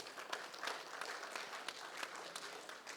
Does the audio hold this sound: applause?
yes